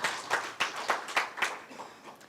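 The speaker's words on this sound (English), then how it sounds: "Can we clap for ourselves, all of us?" An audience at the Rural Private Hospitals Association of Kenya 2020 annual convention claps together, a burst of sharp, rhythmic handclaps that gradually thins and fades.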